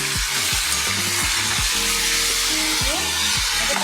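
Banana chips fry in hot oil with a dense, continuous crackling sizzle, loud and close, joined by a low tonal hum and occasional soft stirring.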